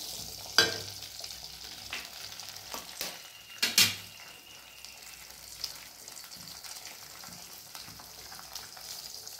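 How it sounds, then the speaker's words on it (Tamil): Cracked eggs fry softly in a pan for spicy egg paneer fried rice, with a low steady sizzle and a few sharp utensil clinks and scrapes as they are stirred, fairly quiet with no talking. "உங்களுக்கு எத்தனை முட்டை வேணுமோ நம்ம உடச்சி ஊற்றிடலாம்"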